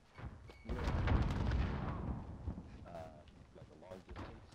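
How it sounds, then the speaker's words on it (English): A grenade blows up in a first-person shooter game, a heavy booming blast that swells and rumbles for about two seconds before fading, with faint game noise after it. "Grenade out!"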